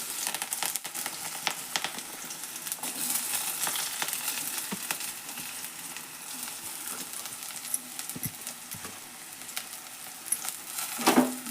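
Chopped onions and curry leaves frying in hot oil for an okra dish, an even crackling sizzle with scattered sharp pops and utensil clicks, louder near the end, close by and without speech.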